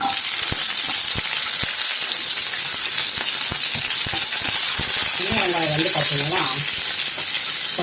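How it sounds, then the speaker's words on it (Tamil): Onions frying in oil in a kadai, a steady broadband sizzle with repeated short clicks of a ladle stirring, close and loud, with a faint hum near the end. "இது வந்து பொறிஞ்சு வந்தாலும் நம்ம வெங்காயத்தை சேர்த்துக்குவோம்"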